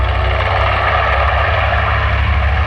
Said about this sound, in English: you can hear the sound of 14 B-25 Mitchell bombers